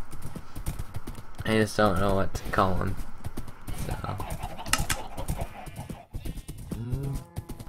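A horse's hooves clip-clop in Minecraft while it is ridden, with a brief whinny under steady talking.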